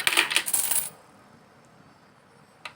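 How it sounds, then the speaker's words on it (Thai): Thai baht coins dropping into a coin-operated photocopier: a burst of bright metallic clinks and rattles for about a second, then near-quiet with one more faint clink toward the end. "ลองเหรียญ2บาทกับ 1 บาทดูนะครับ"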